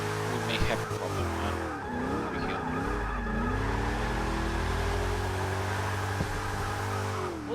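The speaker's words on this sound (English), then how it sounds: "Oh, he's getting some solid drifts." A GMC Vandura van drifts sideways in the Forza 6 racing game with a loud, sustained tire squeal over a droning engine, the pitch wavering and sliding through the run as someone talks over it.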